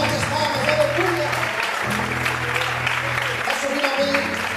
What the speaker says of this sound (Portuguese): Não, mais fortes palmas, aleluia.